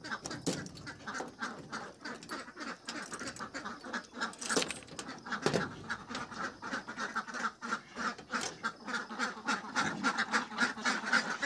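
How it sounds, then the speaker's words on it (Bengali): Khaki Campbell ducks on a farm quacking continuously, a dense flock chorus of overlapping nasal calls close by, steady and busy throughout with no talk. "দেখছেন হাঁসগুলি, এগুলি হলো হাকি ক্যাম্বেল হাঁস"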